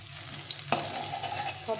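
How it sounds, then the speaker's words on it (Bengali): Fish fried red-brown in hot oil, giving a steady close sizzle and crackle that swells after a sharp utensil clink partway through. "মাছগুলো ভাজা হয়ে গেছে, তখন লাল লাল করে ভেজে নিয়েছি।"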